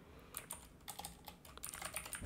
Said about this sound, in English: So I'm opening a new tab and typing here